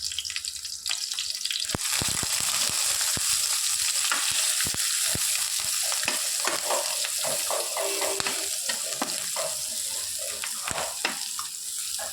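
Ground spice powder frying in hot oil in a kadai, a steady close sizzle with scraping stir strokes and occasional sharp ladle knocks throughout, no talking.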